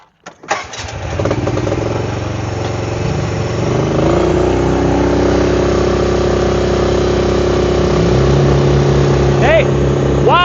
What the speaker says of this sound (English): Snezhana, let's start the engines